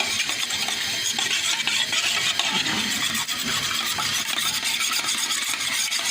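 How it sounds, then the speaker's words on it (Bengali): Steady whisking of a pudding mixture in a bowl at home, a continuous scraping, stirring rasp that stays even and fairly close throughout, with no talking. "এবার আমি একটু ফেটিয়ে নেব।"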